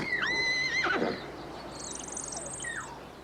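A horse gives one loud, close whinny that rises and then falls away, followed by fainter high, chirping calls over quiet background.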